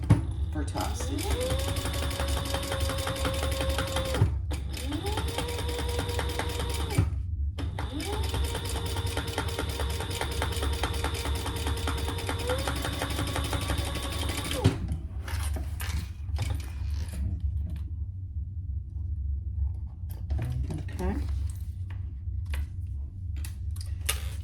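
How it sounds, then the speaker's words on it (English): A sewing machine topstitches the back top panel of a zippy bag to the zipper at a 1/8 inch seam allowance, running in long steady whirring bursts with short pauses. After that comes quieter handling of fabric and mechanism. No one speaks. "I'm only top stitching the back top to the zipper"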